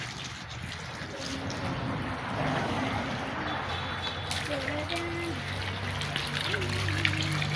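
Water runs slowly into a bath at home where a child is bathing, a soft continuous trickle under steady background noise, with people talking intermittently over it.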